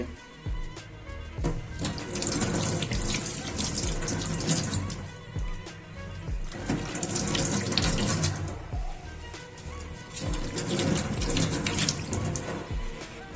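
Tap water runs steadily into a sink while onions and tomatoes are rinsed by hand, a continuous splashing stream with surges and small knocks of vegetables being handled, close and fairly loud throughout.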